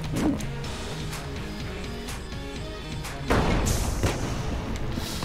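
A dungeon collapsing in the video game Exit the Gungeon: repeated heavy thuds, rumbling crashes and booms over ongoing game music, with a louder crash burst partway through.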